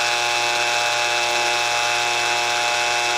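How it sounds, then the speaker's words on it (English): Power drill running slowly in reverse, augering a length of all-thread rod into a broken gunstock; a steady, loud whine holds level throughout without pauses or voices. "we're going to have to auger that as we go in. We'll just slowly run it in reverse"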